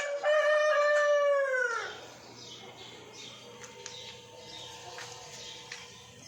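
A loud, drawn-out crow opens the clip, then gives way to a quieter background of clucking and a low steady hum.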